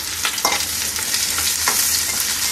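Pointed gourd and potato pieces frying in a pan for a rainy-day sabu khichuri meal, a loud close sizzle with a couple of scraping stirs, no voices.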